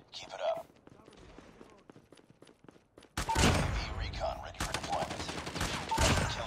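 Shotgun blasts in a shooter video game: several sharp, loud shots spaced irregularly across the clip, the first after a quieter stretch of game sounds, the rest clustered closer together toward the end.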